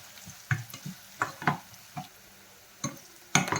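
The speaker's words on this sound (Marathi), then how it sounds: "आता आपल्याला ऍड करायचा आहे कांदा आपल्याला आता छान मस्त गुलाबी रंग येईपर्यंत आपल्याला हा कांदा परतून घ्यायचा आहे" Onion being sautéed and stirred in a pan of oil after cumin and mustard seeds, for a Maharashtrian mung vada bhaji; soft sizzling underneath a string of scraping stirs and clinks, with no one talking.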